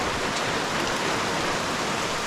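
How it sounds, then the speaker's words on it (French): Hail falls steadily outdoors in the Pyrenees, a dense, even hiss of countless small impacts, close and continuous, with no voices. "Il y a de la grêle, c'est de mieux en mieux."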